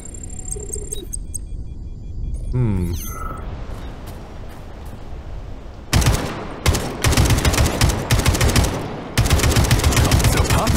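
Quieter clicks and a rising whistle give way to loud, rapid bursts of Kalashnikov rifle fire in the video game Atomic Heart, several volleys in quick succession.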